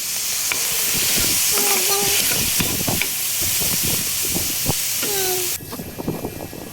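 Mushrooms hiss and sizzle in a hot frying pan, a steady steamy frying bed with scattered stirring clinks and scrapes, cutting to a quieter sizzle near the end.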